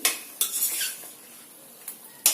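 A spoon stirring chilli powder and salt into chicken curry in a metal pot, with sharp scraping clinks against the pot at the start and end and a soft stirring rustle between them.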